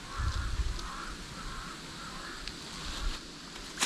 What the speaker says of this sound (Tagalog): Kapal ng uwak eh.